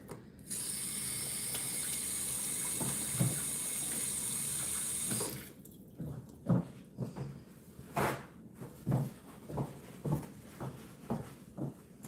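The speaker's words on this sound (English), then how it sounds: "I'm just gonna wash my hands really quick." Hands washed under a running kitchen tap while making blueberry muffins: a steady hiss of flowing water for about five seconds, then stops, followed by a series of close clicks and clatters.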